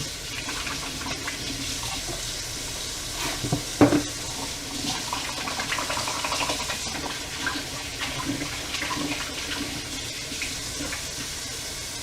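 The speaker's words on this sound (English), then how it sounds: "let me wash my hands real quick." Tap water runs steadily into a sink as hands are washed, a soft continuous hiss with a brief clatter partway through, fairly close with no talking.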